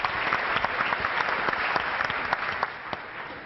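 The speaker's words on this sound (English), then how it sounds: "give a big round of applause for Skylines" A conference audience at a startup pitch event applauds, a dense, even clapping that holds steady for a few seconds before tapering slightly.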